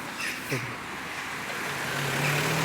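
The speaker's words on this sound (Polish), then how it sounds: "Wychodzę, samochody jeżdżą." Cars driving past on a street outside produce a continuous traffic rumble that builds slightly toward the end, with a brief faint tonal chirp early on and no clear speech.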